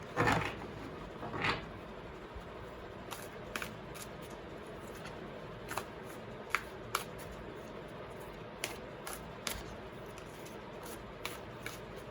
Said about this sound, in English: Let me see what message do we get from the Enchanted Map Oracle cards.